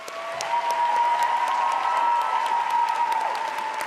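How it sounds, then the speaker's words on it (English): An audience at a Halloween royal ambassador coronation in Anoka, Minnesota gives a steady round of applause, dense and sustained clapping that fills the room at an even level throughout. "Let's give them one more big round of applause"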